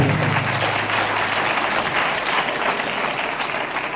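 A congregation applauds at a Christmas sermon in Beas Pind, dense clapping from many hands that stays loud and steady across the room and fades slightly toward the end.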